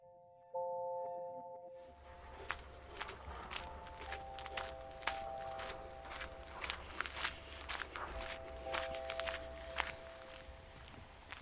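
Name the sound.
footsteps walking through grass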